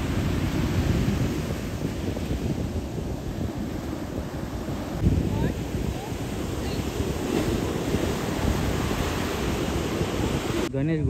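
Surf rolls in at Ganesh Ghule beach near Ratnagiri, a steady, loud wash of breaking waves mixed with heavy wind buffeting the microphone, with no clear pauses between swells.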